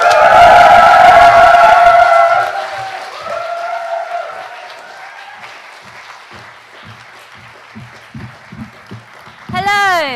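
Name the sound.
audience applause and whooping for poets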